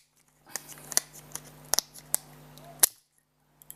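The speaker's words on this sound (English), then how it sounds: "Don't worry about those clicking sounds, because it's a clicking mechanism." Plastic clips snap loudly one after another as the back cover of a Huawei Ascend P6 phone is pried off by fingernail, a series of sharp, close, irregular clicks over a quiet background.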